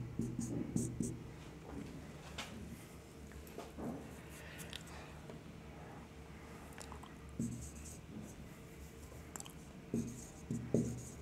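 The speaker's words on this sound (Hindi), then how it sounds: "नेक्स्ट सेंटेंस लिखता हूँ मैं" Marker or chalk squeaking and tapping on a board as a teacher writes a sentence during an English class, with intermittent faint strokes, quiet room noise, and soft background sounds.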